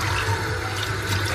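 Tap water runs steadily into a pot of three cups of rice being rinsed, a close continuous splashing rush with no break.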